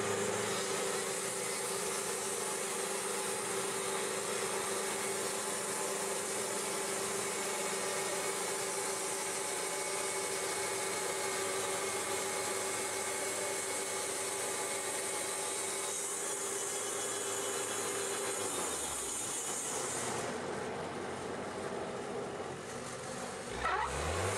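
A sawmill slices a log, taking a slabbing cut and then a one-inch-thick plank while building flooring. A loud, steady machine whine runs unbroken for about twenty seconds, then the blade pitch drops and the sound winds down near the end.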